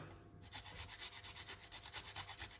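Fresh ginger grated by hand over a grater at close range, a steady run of rhythmic rasping strokes, roughly a dozen quick scrapes in a row with no talking.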